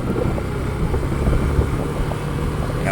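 A slow motorcycle rolls past on a street lined with parked vehicles, its low, steady engine rumble continuing evenly throughout at close range with no talk.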